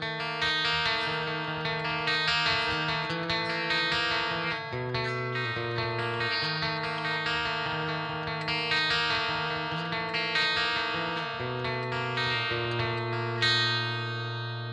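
Strat-style electric guitar played through effects with a glassy, chorus-tinged clean tone, sustained chords and picked notes ringing with reverb in a steady rhythmic pattern, close and alone without talk.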